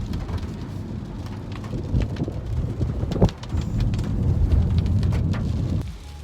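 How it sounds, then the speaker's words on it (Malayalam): Heavy rain pours down steadily with dense broadband hiss and scattered louder drops, swelling slightly in the middle before easing at the end, with no voices. "പിന്നെ നല്ല മഴയാണ്."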